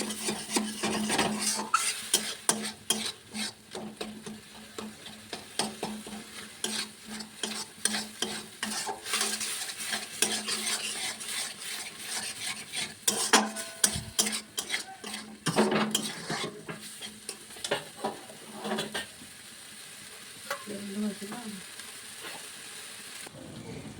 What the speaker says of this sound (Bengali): একটু ভালো করে কষিয়ে নিতে হবে সেটিগুলোকে মশলার সাথে।